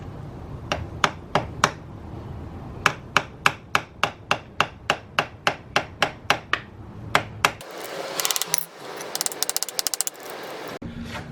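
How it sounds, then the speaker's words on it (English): A hammer strikes a retaining washer on a KLX250 motorcycle to flatten it, about twenty sharp metallic taps in quick, uneven runs, close and loud, then a few lighter clinks under a brief shuffle of handling noise. "you got to flatten out this retaining washer right here"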